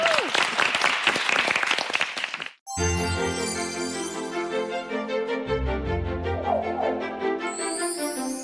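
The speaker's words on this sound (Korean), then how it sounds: "박수로 청하겠습니다" A studio audience on a Korean TV health talk show claps briskly for a lecturer for about two and a half seconds. The clapping cuts off abruptly into a bright, tinkling musical jingle.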